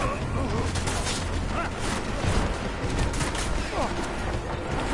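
Gunshots in Deus Ex: Mankind Divided, a dense, busy spread of shots and impacts across a noisy battle bed, fairly loud and continuous with no clear pauses.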